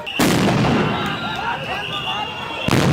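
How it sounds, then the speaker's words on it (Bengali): Police sound grenades exploding at a student protest: a sharp, loud blast opens the clip and a long rumbling wash follows, with another burst at the end and shouting voices underneath. "পুলিশ কিন্তু কয়েকটি সাউন্ড গ্রেনেড ছুটিয়েছেন"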